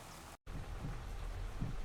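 Steady rain falling in the farming game Farming Simulator 25, a continuous broadband wash with a brief dropout near the start, moderate and without talk.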